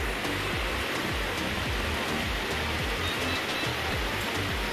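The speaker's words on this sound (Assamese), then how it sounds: "পানী শব্দ আপোনালোকে চাগে অলপ হ'লেও শুনা পাইছে কলকলকৈ বৈ আহিছে" Stream water rushes continuously at Tengapani with a close, dense, even gush, heard alone with no voices.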